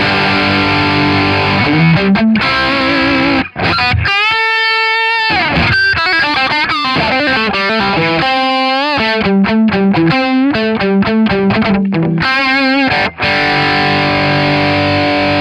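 Heavily distorted electric guitar through a TC Electronic Dark Matter distortion pedal, gain at 9 o'clock, playing riffs and sustained chords, loud and gritty, with brief pauses between phrases.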